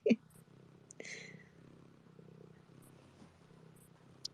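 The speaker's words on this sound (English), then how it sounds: "You hear purring" A pet cat purrs softly and close by, a faint low rumble running steadily beneath a few small clicks and rustles.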